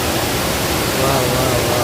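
Broad roaring rush of a large waterfall near a Kenyan village, loud and close, with a voice talking over it.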